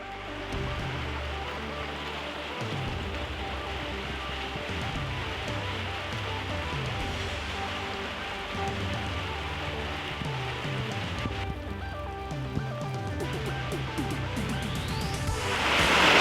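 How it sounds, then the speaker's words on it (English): Heavy monsoon rain pours down in the desert, a dense, continuous hiss of drops pattering on surfaces that builds slightly louder toward the end. "I think this is our first really good rain of the monsoon season"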